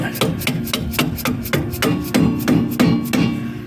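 A hammer taps a pin into the rear shock absorber mount of a Volvo in a steady run of about a dozen sharp metallic knocks, close and evenly spaced.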